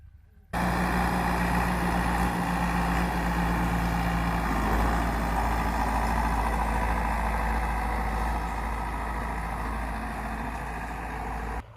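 A tractor engine drones steadily in a wheat field during sowing in a Haryana village, a loud, even, low rumble with a constant hum that runs unbroken from start to finish.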